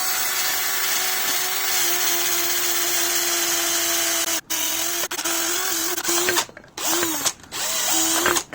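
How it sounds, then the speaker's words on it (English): A small power drill fitted with a polishing mop whirs at a steady pitch, then stops and starts in short bursts, its motor note dipping as it catches against a Honda CB400 Super Four motorcycle's surface. "what I do have are some little mops for my drill"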